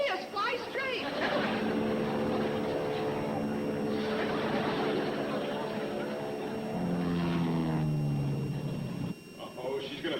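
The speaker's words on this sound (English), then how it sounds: "She's flying the plane crooked." A propeller airplane flies overhead, its droning engine holding steady and then sliding in pitch as it passes, loud throughout, with voices talking over it.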